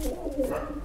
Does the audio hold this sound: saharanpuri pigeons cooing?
yes